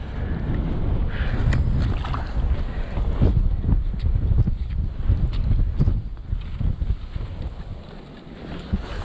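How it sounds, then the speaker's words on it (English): Strong winter storm wind on an ice-fishing spot buffets the microphone with a loud, continuous roaring gust that eases slightly toward the end. "Oh my gosh, this wind, bro."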